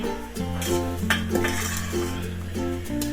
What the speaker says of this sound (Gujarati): બધું મિક્સ કરી દઈશું સરસ રીતે